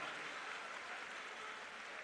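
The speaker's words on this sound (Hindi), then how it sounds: "जोरदार तालियों से आदरणीय मुख्यमंत्री महोदय का आभार व्यक्त करें" Crowd applause at a public event in Delhi where municipal employees receive regular job cards, offered as thanks to the Chief Minister; a dense, steady wash of clapping sustained evenly across the whole stretch.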